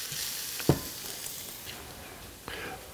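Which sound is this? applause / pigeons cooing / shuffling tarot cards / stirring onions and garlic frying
stirring onions and garlic frying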